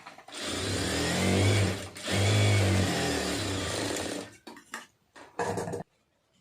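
A sewing machine runs a long continuous stitch on a blouse lining, a loud, even motor whir with one brief pause, then several short stop-start bursts before falling quiet.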